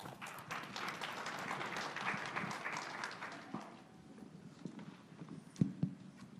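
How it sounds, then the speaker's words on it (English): An audience at a traditional healing summit applauds to welcome the panelists, a dense patter of clapping at moderate distance that thins and fades after a few seconds, leaving scattered claps and faint room noise. "Let's all please give them a warm round of applause"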